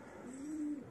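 A pair of breeding pigeons gives a single soft, low coo, brief and close, in an otherwise quiet space.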